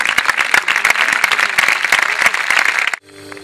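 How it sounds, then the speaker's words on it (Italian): Spectators at a children's sports show give a burst of loud, busy clapping that carries on evenly for about three seconds and then stops abruptly, leaving a faint tonal hum. "e voglio farvi un grande applauso."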